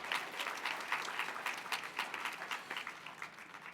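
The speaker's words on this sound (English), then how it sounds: "Give yourselves a round of applause for being here." An afternoon summit plenary crowd applauds itself with crisp, distinct claps, fairly close, that gradually thin out and soften toward the end.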